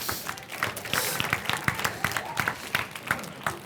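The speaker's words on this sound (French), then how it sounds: "On peut applaudir s'il vous plaît." An audience at a live French game-show event applauds, with dense rapid clapping from many hands holding steady and fairly close throughout, no speech over it.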